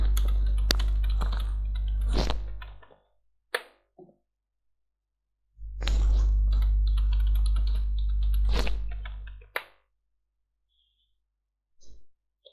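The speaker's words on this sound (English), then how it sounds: "Here we type our password." Keys tapped on a computer keyboard while entering a password, two bursts of close, quick clicking separated by a pause, with a low hum underneath and a few isolated clicks near the end.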